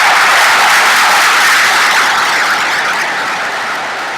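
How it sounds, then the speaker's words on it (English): Loud, dense applause from the audience at a middle school promotion ceremony, a continuous wash of clapping that slowly fades toward the end. "So give them another round of applause."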